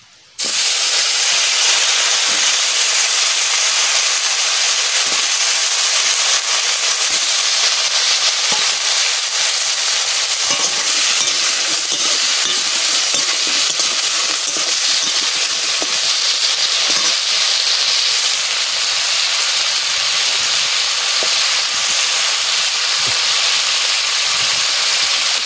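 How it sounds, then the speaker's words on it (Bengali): Vegetables fry in a pan with a loud, dense, unbroken hiss close by, steady from start to finish with faint scattered clicks underneath and no talking. "সবজিটা ভাজা করে নেব।"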